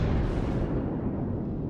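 The Yamato battleship fires a salvo in World of Warships, a single loud, deep, rumbling blast that fills the short moment and slowly fades.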